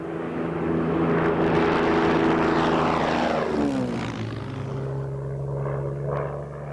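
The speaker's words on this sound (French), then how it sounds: "Le secret des performances tant du Spitfire que du Hurricane, c'est leur moteur Rolls-Royce Merlin." Spitfire or Hurricane fighter with a Rolls-Royce Merlin engine roaring past, a loud propeller drone whose pitch drops sharply as it passes overhead, then fades to a lower hum.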